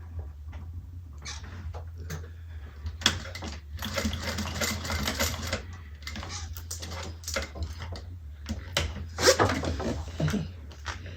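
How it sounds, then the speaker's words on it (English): A sewing machine stitches across the bottom of a fabric bag, running in several bursts of rapid mechanical whirring with brief pauses between runs, close and fairly loud. "I'm just going to start here across the bottom first so that I can get my back stitch done"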